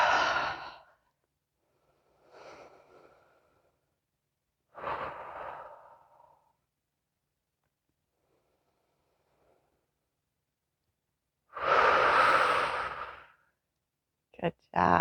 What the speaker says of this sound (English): We'll take 3 deep breaths.